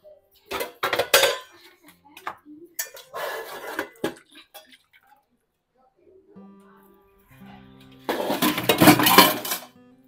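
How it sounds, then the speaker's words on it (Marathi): Cooking pots and dishes being washed in a home kitchen: sharp metallic clanks and clinks come in short separate bursts, followed by a louder stretch of water running and dishes clattering together at the end. "जी काही भांडी पडलेली आहेत स्वयंपाकाची ती धुवून घेणार"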